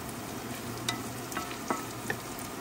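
Sausages and pepperoni frying in a pan make a steady close sizzle, broken by a few sharp crackles and stirring clinks, with no voices.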